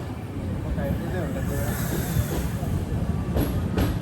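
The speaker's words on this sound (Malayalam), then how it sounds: "പത്തനംതിട്ട ജില്ലയിലെ ഏക റെയിൽവേ സ്റ്റേഷനായ തിരുവല്ലയിലേക്ക് ട്രെയിൻ എത്തുകയാണ്." An Amrit Bharat Express sleeper train slowing into Thiruvalla station gives off a continuous rolling rumble with hissing, light wheel squeal and a couple of brief sharp bursts near the end.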